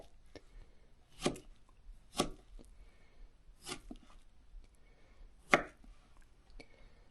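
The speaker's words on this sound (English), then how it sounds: "Chop them fine so you can mix up with everything in the salad." A knife chops air-fried food fine for a salad, giving about six sharp, separate thwacks against a board at an uneven pace, close and clear over a quiet room.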